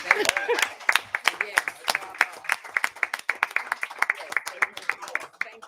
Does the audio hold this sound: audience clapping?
yes